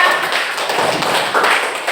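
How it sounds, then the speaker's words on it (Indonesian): A classroom group claps together for a team of students, dense close handclaps in a short steady burst. "Oke, tepuk tangan untuk kelompok Tasya."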